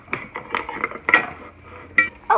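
Light clinks and scrapes of a utensil stirring in a small toy pot, a quick irregular series of close, bright taps and rattles.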